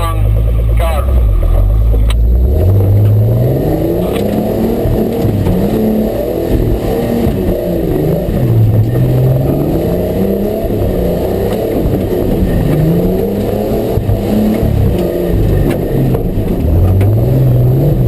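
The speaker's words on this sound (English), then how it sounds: "Okay, car 22 is ready to go." A racecar accelerating away at the start of a race, its engine revving through repeated rising gear sweeps, loud and close, with a continuous roar throughout.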